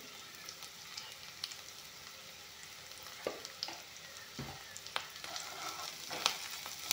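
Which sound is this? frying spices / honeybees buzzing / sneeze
frying spices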